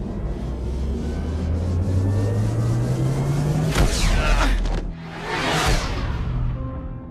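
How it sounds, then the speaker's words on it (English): A spaceship drive in the Mass Effect game roars with a steadily rising engine tone while airlocks release in whooshing rushes of venting air. The sound is loud and continuous, with no talk. "Activate the drive and I will open the airlocks as we accelerate."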